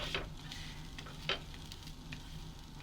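Wheat balls crisping in hot oil in a pan for a South Indian evening snack, a faint steady sizzle with a few small pops and crackles.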